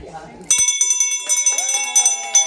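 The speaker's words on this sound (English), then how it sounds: "So is this the bell? Yeah. The famous bell." A handmade resin bell rings several times in quick succession, bright and close, with clear sustained tones, after a short moment of quiet voices.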